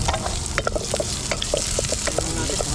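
Garlic, ginger and onion sizzle steadily in a hot frying pan, with repeated scrapes and clinks of a stirring utensil against the pan throughout.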